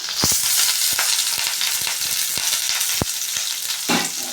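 Onion, dried red chillies and curry leaves fry in a pan of oil, a steady bright sizzle throughout with several sharp crackles and pops, close and loud, no talking.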